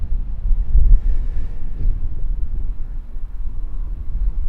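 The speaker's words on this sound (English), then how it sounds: "I'm not exaggerating the wind today. Pretty strong southwesterly." Strong southwesterly wind gusts buffet the microphone at Auckland Airport, a loud, low rumbling roar that surges and eases with no talk.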